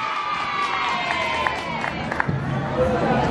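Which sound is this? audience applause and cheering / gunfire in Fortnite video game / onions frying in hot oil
audience applause and cheering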